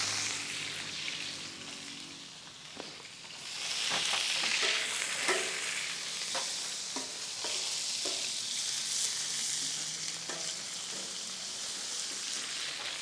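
Onions and mustard seeds sizzle steadily in hot oil for a South Indian tempering, a loud continuous frying hiss close up, with occasional stirring taps and no talking.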